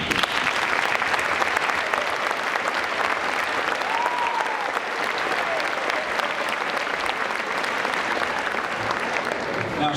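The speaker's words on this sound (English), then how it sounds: "maybe you join me in giving the students a round of applause." A graduating-student awards ceremony audience at a junior high applauds steadily and loudly, a dense, continuous wash of clapping from a large crowd lasting the whole stretch without pause.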